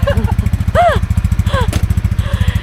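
A motorcycle engine runs with a steady, close, loud rhythmic idle throughout, while people talk briefly over it.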